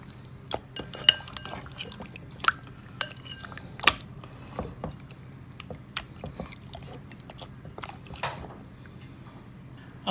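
Chicken is mixed with a Cajun seasoning marinade in a bowl, producing soft wet squishes and light clinks of a utensil against the bowl in an irregular rhythm, close up.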